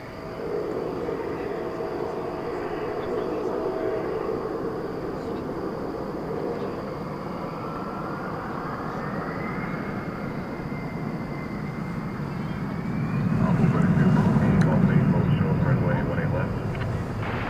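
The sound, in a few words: Skyline flight 4970 airplane taking off at DFW Airport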